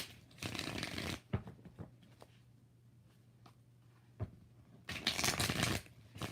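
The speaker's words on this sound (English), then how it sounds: "4 shuffles." Tarot cards being shuffled at close range, quick riffling bursts at the start and end with sparse soft taps and handling noises in between, no talking.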